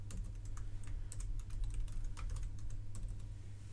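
A password is tapped out on a computer keyboard in quick, uneven keystrokes, soft and close over a low steady hum, with no voices.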